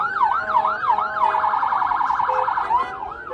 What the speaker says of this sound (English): Just press the siren.